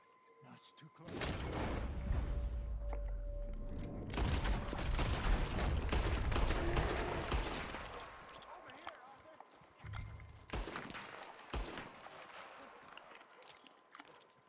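Gunshots during a fight in Valentine in Red Dead Redemption 2, sharp cracks in clusters with galloping-like thumps and game ambience, interspersed with people talking.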